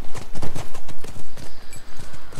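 Horses clip-clop at a steady trot in the PS4 video game The Last of Us: loud, close, rhythmic hoofbeats on hard ground with no talk over them.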